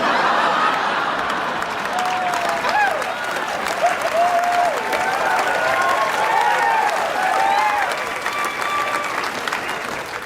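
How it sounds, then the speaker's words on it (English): A stand-up comedy audience applauds in a sustained wash of clapping mixed with scattered laughter and cheers, loud and continuous throughout. "there's a lot of you clapping"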